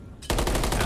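Rapid automatic gunfire in a Call of Duty League match, a loud, dense burst of rattling shots starting abruptly after a brief quieter moment.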